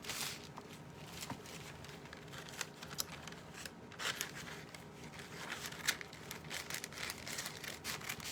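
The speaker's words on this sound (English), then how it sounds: "So let me just cut this like this." Scissors cut through decoupage paper in a quiet crafting space, giving faint, irregular snips and soft paper rustles close by.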